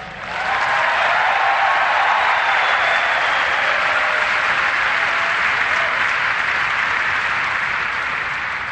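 Sustained applause from a large audience after a political speech by President Obama, a dense steady roar of clapping that holds loud for nearly nine seconds before easing slightly.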